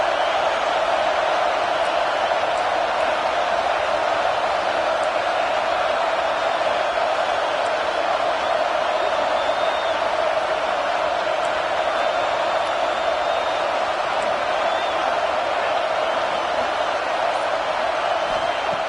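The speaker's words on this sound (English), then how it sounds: "And wow, listen to this crowd noise. This stadium is vibrating." A large crowd roars in a continuous, dense wash of noise at an Alabama football game, steady and loud throughout, the stadium packed.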